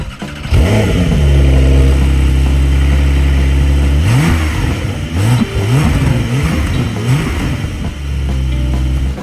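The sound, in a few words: Brabus 900 Rocket R engine revving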